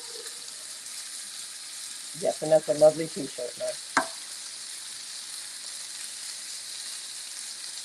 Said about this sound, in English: Now you want the sizzle.